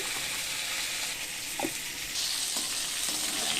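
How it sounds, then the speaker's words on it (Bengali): Pointed gourd pieces fry in oil in a pan with turmeric, ginger, garlic and dried chili, giving a steady close sizzle with a few faint stirring scrapes and no talking. "পটলগুলো দেখুন খুব সুন্দরভাবে ভাজা হয়েছে এবং নরম হয়েছে"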